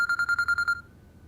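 Phone ringing with an incoming call: a series of seven rapid electronic tone bursts in quick rhythm, then falling quiet, with no talk over it.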